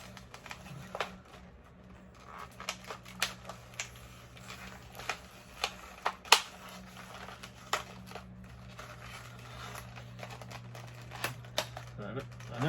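A knife slices open the cardboard and plastic packaging of a Millennium Falcon model kit, giving scattered small clicks, ticks and crinkles at irregular intervals over a steady low hum, close and fairly quiet.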